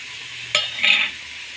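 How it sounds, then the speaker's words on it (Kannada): Finely chopped onions sauté in a pan at home for a horse gram curry, giving a soft, steady sizzle with a brief stirring scrape partway through; no voices. "ಈಗ ಈರುಳ್ಳಿ ಚೆನ್ನಾಗಿ ಬಾಡಿಸ್ಕೊಳ್ಳೋಣ"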